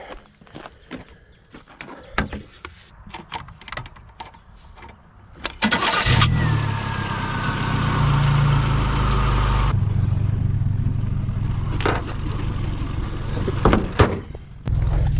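A car with a Mazda-style MX-3 setting ahead of scrapping cranks and starts after a few nearby footsteps and clicks, then settles into a steady rumbling idle, with sharp knocks near the end.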